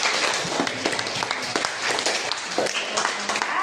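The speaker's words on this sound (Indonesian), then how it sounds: "Tepuk tangan dulu kita untuk kelompok berempat yang ada di kelas" Middle school students clapping in a classroom for a group of four, a steady, fairly loud round of many hands with scattered sharper claps and faint voices underneath.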